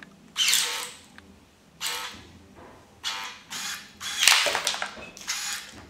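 Electric pruning shears with a poorly sharpened blade make a series of separate cuts, each a short, harsh mechanical grinding creak. The bursts are spaced about a second apart, close and moderately loud, with no talking.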